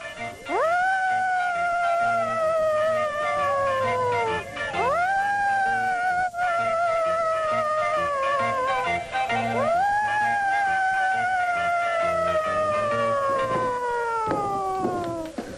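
Children's voices imitate sirens, rising and falling wails repeated in several long sweeps, loud and close with no other sounds.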